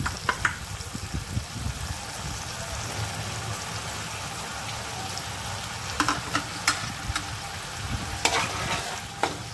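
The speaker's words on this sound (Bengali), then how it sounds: "আবার একটু আমি ভালোভাবে এটাকে কষিয়ে নেব।" Catfish curry with salt and turmeric paste, bitter gourd and eggplant sizzles steadily in a pan while being stirred, with a constant close frying hiss and occasional scraping clinks.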